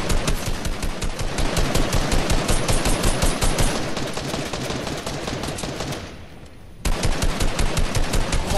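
Fortnite gunfire rattles in long, rapid automatic bursts, loud and close and almost continuous, with one brief pause before the shooting starts again.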